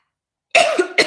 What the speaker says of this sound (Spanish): Disculpen, ya me dio la tosedera por lo que dije.